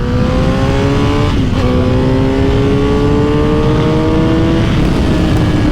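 A Suzuki GSX-S1000 motorcycle engine pulls out hard, loud and close, its pitch climbing steadily through one gear change and then rising again.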